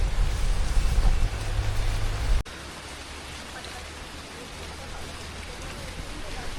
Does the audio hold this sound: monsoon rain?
yes